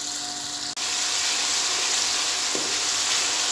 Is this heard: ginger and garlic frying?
yes